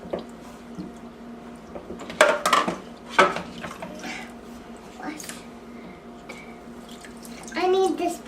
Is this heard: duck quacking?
no